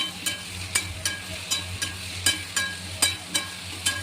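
A metal spatula scrapes and stirs spiced potatoes for a pumpkin curry frying in a pan, steady rhythmic strokes about every half second over a soft continuous sizzle.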